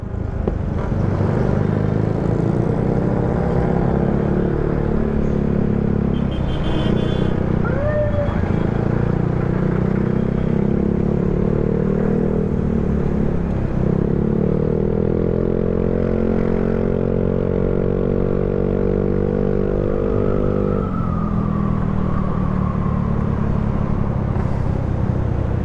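A jeep with a loud aftermarket exhaust, likened to an HKS titanium muffler, drones steadily and close for the whole stretch, its engine tone rising and falling with throttle amid other traffic on a rainy road in Lipa City, Batangas.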